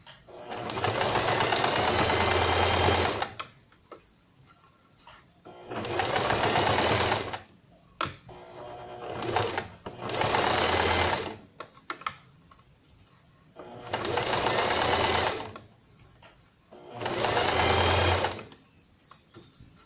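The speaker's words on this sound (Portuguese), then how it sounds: "Agora, é só pegar e passar uma costura reta aqui." A sewing machine runs in five bursts of rapid stitching along a straight seam on Barbie dress fabric with lace, each run lasting a couple of seconds. Quiet gaps between the bursts carry faint handling sounds.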